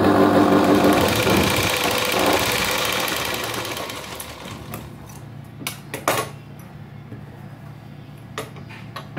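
A sewing machine stitches a pleat on a princess-cut blouse, a loud close whirring run that fades and gives way to scattered clicks and light handling noises.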